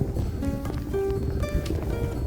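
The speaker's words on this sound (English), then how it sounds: "Same wind from yesterday blowing around." Wind blows outdoors along electrical right-of-ways on a walk, a constant low rumbling gust across the microphone with no pauses and no voices.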